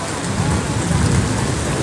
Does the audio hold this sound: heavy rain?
yes